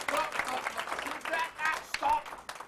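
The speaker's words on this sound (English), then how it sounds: "Give him a round of applause" An audience at an old-time music hall show claps in a dense, steady burst of applause, with a voice talking over it.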